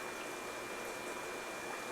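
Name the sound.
water filling a fish tank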